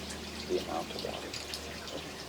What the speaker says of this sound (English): Look at the amount of water.